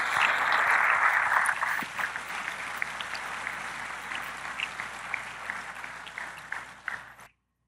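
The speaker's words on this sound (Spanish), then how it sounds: "Denle un aplauso a Dios." Congregation applauding during a church service, a broad sustained wash of many hands clapping at steady loudness that tapers over several seconds and stops abruptly.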